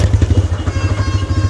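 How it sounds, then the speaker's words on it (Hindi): A TVS Raider 125 motorcycle engine runs right after starting, a loud, close, pulsing putter with rapid regular thumps and a little mechanical clatter, no voices over it. "ये बाइक बहुत ही आसानी से स्टार्ट हो सकती है"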